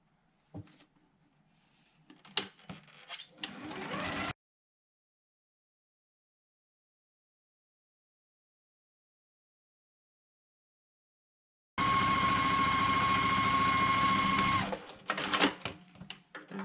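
A sewing machine stitches quilt pieces together along their long sides in two steady whirring runs, the second one loud and continuous. Handling clatter and rustling come before and after, with a silent gap in between.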